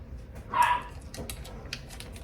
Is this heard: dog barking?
yes